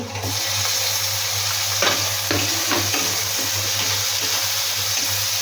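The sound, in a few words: tomato added to a hot pan, frying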